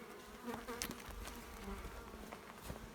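Bees buzzing close by around a log hive, a dense, steady drone with individual insects whirring past.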